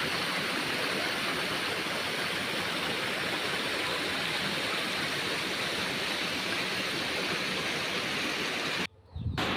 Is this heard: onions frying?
no